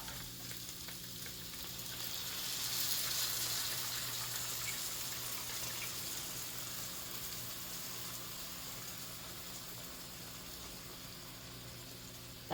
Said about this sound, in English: You're going to add about a cup of your broth.